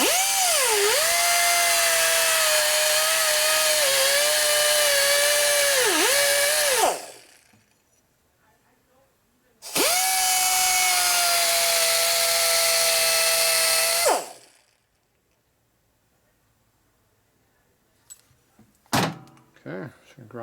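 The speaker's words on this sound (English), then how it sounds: "So I'm going to grind that area a little bit more." Loud, continuous power-tool grinding on the metal of a Harley panhead oil pump at the primary oiler adjuster screw, in two long bursts separated by a pause, followed by brief clanks near the end.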